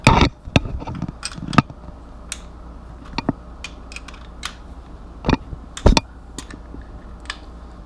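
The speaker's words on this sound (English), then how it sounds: "So then we'll tighten these nuts down." Lock nuts being tightened on a 2019 KTM 690 Enduro rally tower: scattered sharp metallic clicks and ratchety taps come in irregular bursts, close and fairly crisp, over a quiet background with no talking.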